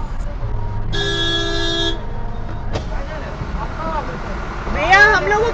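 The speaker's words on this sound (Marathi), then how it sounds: "यांनी हॉर्न वाजवला ते ह्या रॉंग साईड।" A vehicle horn blasts for about a second in Indian road traffic, with a vehicle coming the wrong way, followed by distant chirps and voices over a steady rumble of engines.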